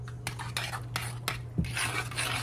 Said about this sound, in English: I'm just going to chop up the cilantro